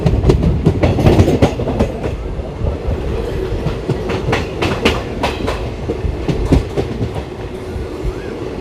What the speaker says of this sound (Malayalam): കുമ്പള റെയിൽവേ സ്റ്റേഷനിലേക്ക് ട്രെയിൻ എത്തിക്കൊണ്ടിരിക്കുകയാണ്.